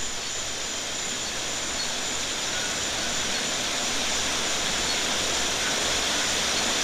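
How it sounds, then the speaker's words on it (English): Distant river water in a rainforest rushes as a constant, even roar, unchanging and without voices. "you began to hear the sound of rushing water far away, as you began to approach a river."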